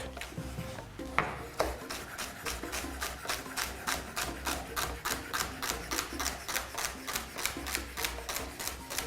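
Celery being finely chopped on a board with a knife, a fast even run of crisp close taps that keep a steady rhythm throughout, with no talking.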